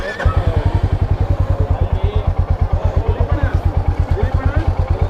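A Royal Enfield Meteor 350 motorcycle thumps along at a steady, loud rhythm, its low engine pulses pounding close and continuous through the whole ride on the way to Gopinatham and Hogenakkal Falls.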